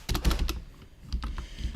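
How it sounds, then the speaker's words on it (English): Rapid typing on a computer keyboard, close and fairly loud, with two bursts of quick key clicks split by a short pause. "I'm gonna have to type in ornament"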